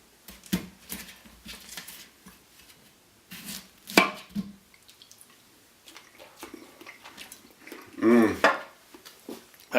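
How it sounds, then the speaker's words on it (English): A knife chops through a whole pineapple in a few separate cuts and thuds on a board, close and fairly loud, with quiet juicy handling sounds between the strikes. "at least that knife goes through there"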